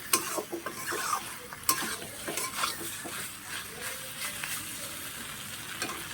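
Flat beans stir-fried with a spatula in a pan, a steady sizzle broken by scraping stirs and occasional sharp metal clinks, close and moderately loud with no talking.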